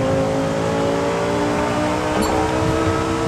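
Racing car engine in Forza Horizon 5, a continuous loud droning roar with steady harmonic tone, revving slightly and holding without pause.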